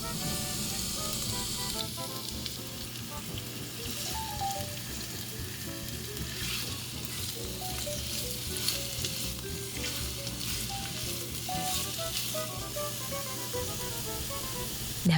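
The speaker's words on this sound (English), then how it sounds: "get our pan nice and hot, add some oil, garlic. I'm adding our blanched rapini." Garlic and blanched rapini sizzling in a hot, oiled pan over medium heat: a continuous, dense frying hiss with crackling and occasional stirring noises, close and loud, with no talk.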